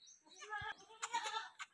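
Goats bleating on a goat farm, several overlapping wavering calls in quick succession, loud and close, with a brief low thump partway through.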